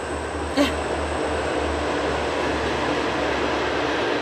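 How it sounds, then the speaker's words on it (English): An Amtrak train rumbling past nearby at speed, a steady loud roar of wheels on rails with a low drone throughout and a brief squeal early on. "there's the train. It's going to be loud."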